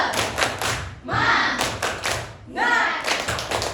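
A group of Indonesian teachers at a subject-teacher meeting performs a rhythmic cheer clap, with bursts of hand claps and thumps in several short phrases separated by brief pauses, fairly loud and close, with no talk.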